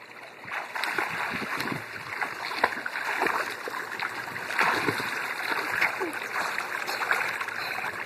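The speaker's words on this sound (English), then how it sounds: "Look at you swimming like a big boy" A young boy splashing as he swims in water, irregular nearby splashes and gurgles that run continuously under an adult's encouraging voice.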